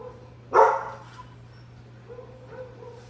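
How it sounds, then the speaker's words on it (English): A single sharp dog bark rings out, followed by a few softer yips and whimpers over a steady low hum. "my dogs are barking."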